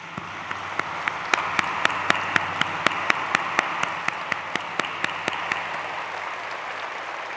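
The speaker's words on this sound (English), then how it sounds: "please join me in giving them warm applause" Warm audience applause fills a large hall at the WUF13 closing ceremony, a steady wash of many hands with a few sharper individual claps standing out at regular intervals, sustained for several seconds before easing slightly.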